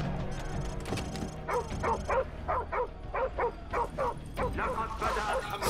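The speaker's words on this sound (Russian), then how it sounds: "О, собачка." A dog in the video game Call of Duty Modern Warfare barks in a run of sharp, evenly spaced yips close by, over low rumbling game ambience with a voice talking at times.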